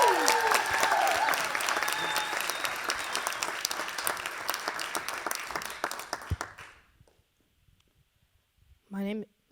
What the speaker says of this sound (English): Please give a warm round of applause for Camden.